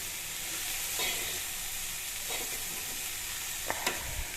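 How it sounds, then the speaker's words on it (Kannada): Mustard seeds tempering in a spoon each of hot ghee and oil give a steady, moderate sizzle with a few faint pops near the end. "ಈಗ ಎಣ್ಣೆ ಕಾದ್ಮೇಲೆ ಸಾಸಿವೆ ಹಾಕ್ತಾಯಿದ್ದೀನಿ."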